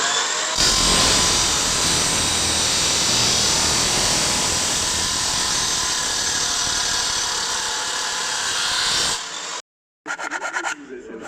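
A power cutting machine's blade slices through material in one long, loud, steady whine lasting about nine seconds, then cuts off abruptly, followed by a short silence and some faint clatter.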